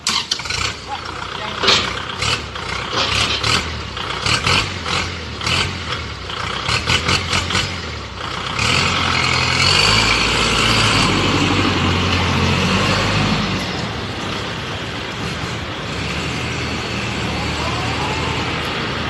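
A Kubota L5018 tractor engine rumbles steadily up close, with someone talking over it during the first part.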